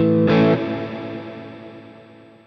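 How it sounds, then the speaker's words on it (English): A guitar chord played through an airy, breathy stereo reverb on a Sonicake Matribox 2 strikes once and then decays into a long, smooth, fading wash. "It's a nice, airy, breathy reverb, isn't it?"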